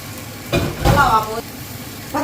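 Vinegar mixture poured into a pan of sizzling sardine masala, giving a brief loud hiss and splutter that swells and fades over a low frying crackle.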